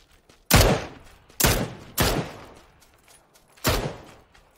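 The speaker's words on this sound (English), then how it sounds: "That's somebody from the house shooting at me" Four sharp, loud gunshots ring out from a house in a shooter video game. Each crack is followed by a short echoing tail, and the shots come at uneven intervals.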